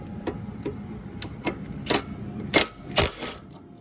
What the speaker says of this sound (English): Now I'm gonna go ahead and loosen up these two right here.